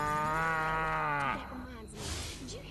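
A cow moos in a video game, one long drawn-out low call up close that bends downward, followed by a brief noisy stretch.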